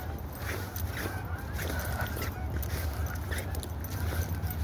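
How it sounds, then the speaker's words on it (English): Canada geese honk at a distance outdoors, a scattered series of faint calls over steady background noise. "But here are the Canada geese. Yep, there they go."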